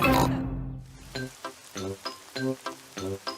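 Several short cartoonish pig oinks from Peppa Pig characters in a quick, bouncy series after a brief musical lead-in, loud and close.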